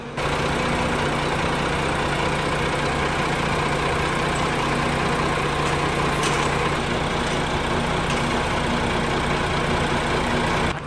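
A large 11-litre, 430-horsepower Volvo D11 diesel engine in a Volvo B11R double-decker sleeper bus idles steadily nearby, a deep continuous rumble with mechanical vibration and no talking.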